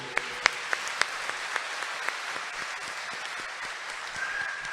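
A church congregation applauds during a Sunday Mass homily, opening with a few sharp, distinct claps before settling into steady, moderately loud clapping from the crowd.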